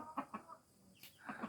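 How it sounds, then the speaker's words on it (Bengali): Chickens cluck softly while being fed in a rural yard, with a few short clucks close by and a brief sharper call near the end. "মুরগি মুরগি অন্য অন্য মুরগি খাইতে আসতেছে"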